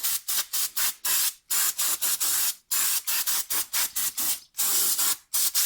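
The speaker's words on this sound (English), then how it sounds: "you may want to spray down the brake caliper bracket here" Aerosol brake cleaner sprayed onto the front brake caliper bracket of a 2004 Ford Mustang, hissing in a rapid series of short bursts broken by brief pauses, close and loud with no talking.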